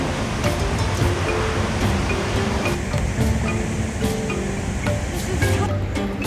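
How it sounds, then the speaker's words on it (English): Steady, broad roar of rushing water from a waterfall at Devil's Pool, with drenching mist, constant and close with no breaks. "No, it's just the waterfall"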